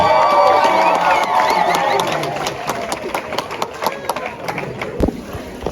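Wedding guests clap and cheer at a celebration, a dense burst of applause that is loud at first and then thins into scattered claps, with a voice speaking over it.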